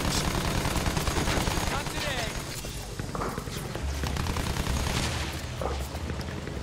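Rapid bursts of gunfire and booming explosions from the Battlefield 1 video game, dense and continuous, with a voice talking over the shooting throughout.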